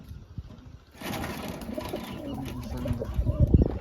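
Pigeons at a home loft setup coo in low, throaty bursts, fairly close, over a steady background hum, louder toward the end.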